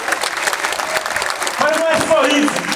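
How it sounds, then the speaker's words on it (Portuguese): Applause for Governor Jerônimo at a speech opening a new bus station in Bahia, a brief burst of clapping building in the second half with voices and shouts mixed in. "queria pedir uma salva de palmas ao governador Jerônimo"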